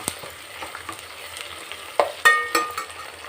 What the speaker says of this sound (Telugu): వీటిని అయితే బాగా ఫ్రై చేసుకోవాలండి.